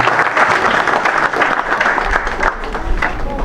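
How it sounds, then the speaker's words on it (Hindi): Children clap loudly and continuously at an outdoor event honouring martyrs, a dense sustained round of applause with no voices. "तानिया तालियां बजाते रहे, बच्चों का जोरदार तालियां।"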